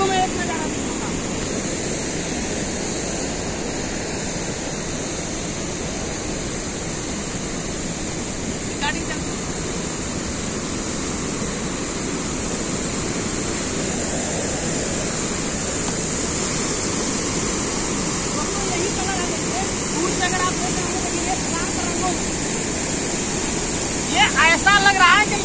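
Water falls with great force from fountains, a loud, steady roaring rush that fills the scene throughout, with faint indistinct sounds rising briefly near the end.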